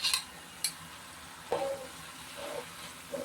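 Moong dal stirred into a siru keerai spinach stir-fry in a pan: a few brief, quiet scrapes and soft clinks spaced over a few seconds, with no talking.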